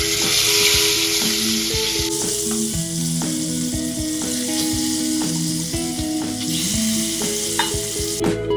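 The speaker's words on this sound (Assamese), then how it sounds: "প্ৰথমে আমি মাছখিনি ফ্ৰাই কৰি ল'ম।" Fish pieces frying in oil in a pan for an Indian fish curry, a constant dense sizzle and crackle with occasional utensil clinks, no voices.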